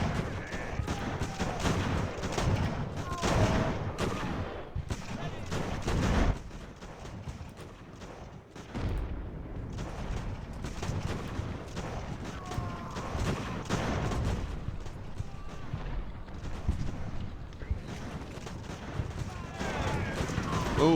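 Musket volleys crackle through a large Age of Sail battle at Bunker Hill in Ultimate Admiral, a dense, continuous din of scattered shots and rumbling fire over the full stretch, with a voice talking over it.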